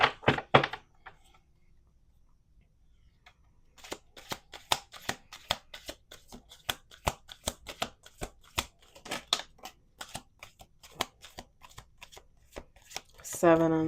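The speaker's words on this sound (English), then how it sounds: "We're going to do 2 more shuffles." Cards are riffled and shuffled close up, a quick burst, a pause, then a long run of crisp flicks and taps, with a voice at the end.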